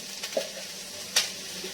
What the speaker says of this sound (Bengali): এই কড়াইতে যে গুঁড়ো মাছটা ভাজছি অল্প অল্প করে ভাজছি